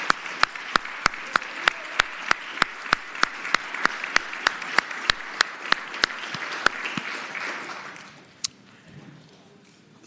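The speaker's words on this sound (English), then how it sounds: "maybe the senators, we can all give them a round of applause" A round of applause in the Virginia Senate chamber for the senators, with one sharp, regular clap standing out over a broad wash of clapping that fades out near the end.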